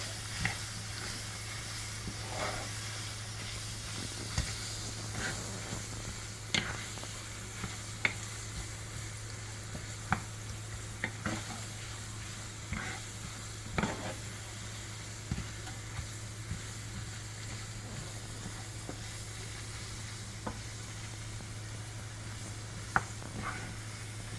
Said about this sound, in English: And then I'm gonna cook the onions until they get really translucent. I'm gonna stir this for about a minute.